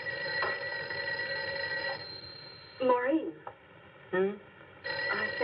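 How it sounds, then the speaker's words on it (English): An old-style telephone bell rings in repeated bursts, fairly close, with people talking over it between the rings. "I think your phone is ringing."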